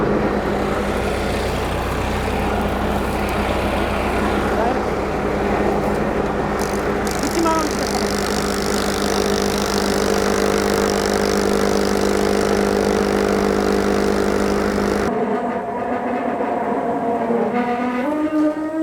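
A branch shredder's small petrol engine, started on choke, runs at a steady loud drone with constant mechanical hum and rattle for about fifteen seconds, then cuts off abruptly, leaving a quieter background where a voice speaks.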